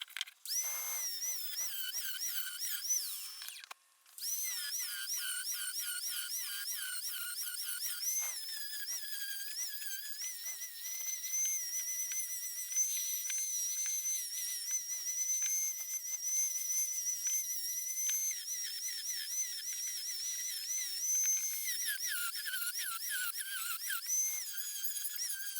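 Angle grinder carving out grooves in a wooden birdhouse, a continuous high-pitched whining squeal that wavers in pitch as it bites the wood, steady and loud with one brief pause near the start.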